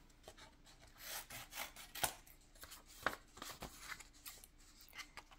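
Scissors cutting paper for a junk journal, giving quiet close snips and rubbing strokes in an uneven rhythm, with a few sharper clicks and no talking.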